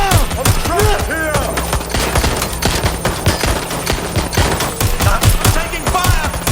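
Gunfire in the video game Watch Dogs Legion: dense, loud bursts of rapid automatic shots crackling continuously under a busy game mix, with scattered voice sounds in the background.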